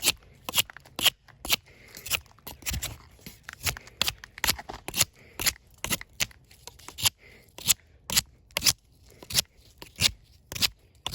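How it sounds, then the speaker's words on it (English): A tactical fixed-blade Rambo-style knife carves a wooden stick to sharpen it, making close, crisp scraping shaves that come in quick irregular strokes with short pauses between them. "I just want to kind of see this knife can kind of sharpen a stick, you know, Rambo style"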